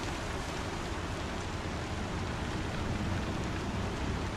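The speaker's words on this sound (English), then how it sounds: "it's raining." Steady, even rain hisses throughout in the video game Star Citizen, a dense continuous wash with no breaks, moderately loud and alone.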